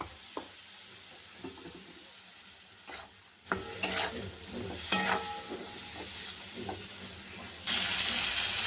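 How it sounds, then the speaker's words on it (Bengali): Spices for a morola fish curry are stirred in a pan with scraping, clattering strokes and a light sizzle. Near the end, water hits the hot pan and sets off a sudden loud, sustained hiss. No one speaks. "একটু হালকা জল দিয়ে দিলাম"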